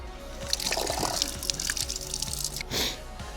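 Water runs and drips from a public fountain in Riells, with soft splashing and dribbling close by and at a moderate, even level throughout.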